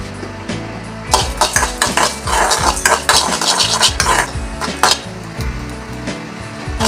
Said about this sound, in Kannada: ಫಸ್ಟಿಗೆ ನಾನು ಕೆಂಪು ಗೆಡ್ಡ ಮೆಣಸನ್ನು ಹುರ್ಕೊಳ್ತಿದ್ದೇನೆ.